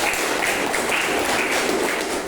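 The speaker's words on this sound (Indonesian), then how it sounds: "beri tepuk tangan untuk kelompok 1" Steady applause from a classroom audience, dense clapping filling the whole moment at an even, moderately loud level with no pauses.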